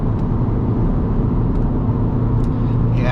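Alfa Romeo Mito engine pulling hard in fourth gear at high speed, a steady, loud, low drone with wind and road roar, unchanging in pitch and without talk.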